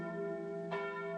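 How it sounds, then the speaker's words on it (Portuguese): Carillon bells of the Basilica of Aparecida ringing, a sustained, resonant tolling with a fresh strike partway through, soft and steady with no talking. "Tá bonito esse som do sino."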